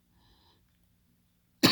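A single sharp cough bursts out at the end after near silence.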